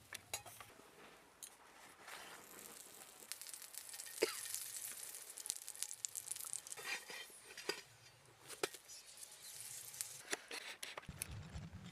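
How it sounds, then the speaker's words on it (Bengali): Cauliflower parathas fry in a pan, a quiet, uneven sizzle with intermittent utensil clinks and pan clatter, close by and without speech. "এইভাবে করে সব পরোটাগুলো ভেজে নেব।"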